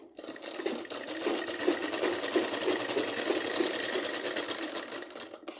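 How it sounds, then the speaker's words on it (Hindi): A sewing machine runs steadily while stitching a salwar seam up to the crotch. It makes a rapid, continuous, close-up needle chatter with an even rhythm throughout. "दूसरी तरफ से हमारी म्यानी तक सिलाई"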